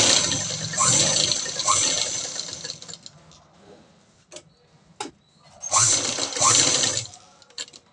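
A sewing machine stitches the lining of a cut-work blouse neck in two bursts of rapid whirring, with clicks and handling sounds in the pause between them.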